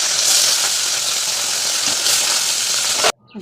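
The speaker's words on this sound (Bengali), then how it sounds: "মাছের তেল ভালো হয়ে গেছে মাছ ভাজবো বাটা মাছ" Bata fish frying in hot oil gives a loud, dense, continuous hiss and crackle that cuts off abruptly near the end.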